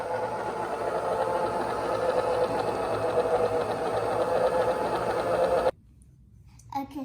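A stand mixer's paddle beats crinkle cookie dough, giving a steady mechanical whir and hum close by for several seconds before it cuts off abruptly, then only faint background remains.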